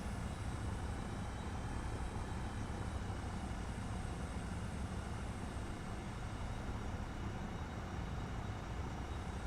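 A steady, faint, unchanging engine drone from an aircraft during takeoff in a flight simulator video game, the Hawk Arrow II, with a continuous broadband roar and no voices.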